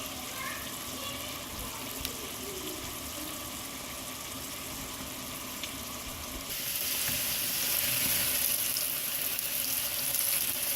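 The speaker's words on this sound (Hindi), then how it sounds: "चलेंगे बस इसको हम अब ब्राउन करेंगे और इसका तड़का लगाएंगे" Steady crackling sizzle of spices frying in hot oil for a mutton stew tempering, close up, growing louder and brighter partway through as the hiss intensifies.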